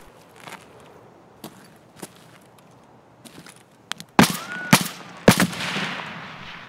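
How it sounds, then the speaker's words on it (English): Gunfire in the Escape From Tarkov video game during a fight with a scav boss. Faint footsteps and scattered distant shots open the scene, then several loud, sharp close shots crack out near the end with a ringing tail. "Who are you shooting at?"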